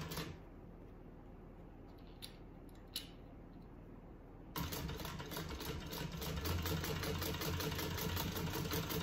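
A sewing machine stitches two bag facings together, starting after a few quiet seconds of faint handling clicks, then running in a steady fast mechanical chatter until the end.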